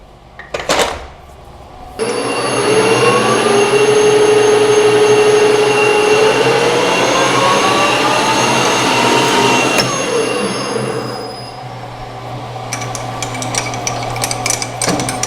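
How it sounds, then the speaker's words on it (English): A center drill held in a drill chuck bores a small hole in a metal block for a BMW clutch pivot ball, giving a loud, steady machine whine for about nine seconds before easing to a lower hum. "drill our little hole"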